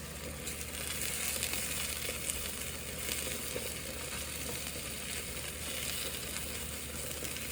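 A spinach omelet seasoned with Creole seasoning sizzles and fries in a pan, a steady, even hiss with no break and no talk over it.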